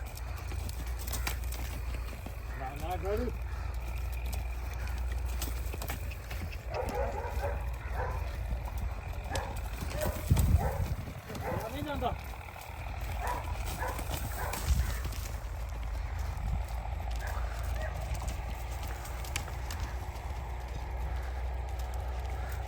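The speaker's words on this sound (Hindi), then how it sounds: "दोनों घोड़ियों की रनिंग भी हो चुकी है।" Hooves of two racing mares clop steadily over a sustained low rumble, with a few louder thumps midway and occasional faint dog barks.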